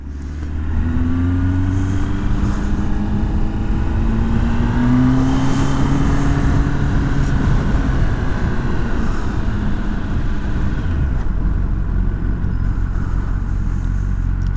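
A new motorcycle pulls away in first gear, its engine droning loud and steady with rising, wavering revs throughout, close to the rider and without any speech.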